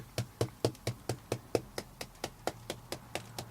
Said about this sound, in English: It knocks off the mortar on the brick.